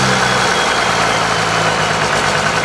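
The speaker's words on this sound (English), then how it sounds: "Then that's idle." A 12-valve Cummins diesel engine pulled from a junkyard idles close by, a loud, steady, rough rumble with no voices over it.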